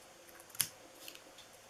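A single crisp snip of scissors cutting through paper while crafting an Easter bunny treat holder, one sharp cut standing out, faint and close, with quiet room tone around it.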